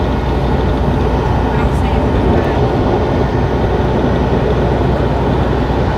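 A freight train hauled by Canadian National and BNSF locomotives gives a loud, continuous heavy rumble that holds steady throughout, with faint voices mixed into the noise.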